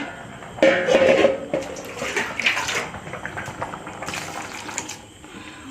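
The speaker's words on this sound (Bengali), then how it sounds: "জলটা দিয়ে দিলাম" Water is poured from a vessel into a cooking pot of rice in a home kitchen, with a close splashing gush that comes in bursts and then tapers off.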